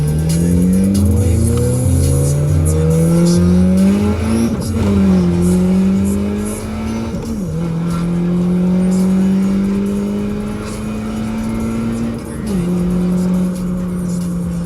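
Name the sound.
Honda Accord with new transmission accelerating hard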